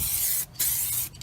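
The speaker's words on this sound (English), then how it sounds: "So let's go ahead and spray that all around the whole bed." Raptor black urethane truck bed liner sprayed around a pickup bed, a steady loud hiss of the spray gun with two brief pauses.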